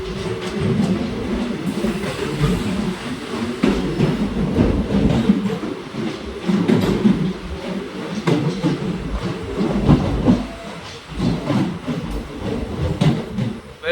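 Guruvayoor Madurai Express rolling along the rails between Kollam and Tenkasi, a steady close rumble with rhythmic wheel clatter and swelling surges, heard alone without voices.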